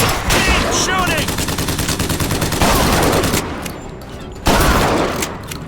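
Dense, loud automatic gunfire rattles nearly nonstop in a Bioshock Infinite battle, briefly easing before another sharp burst, with voices shouting underneath.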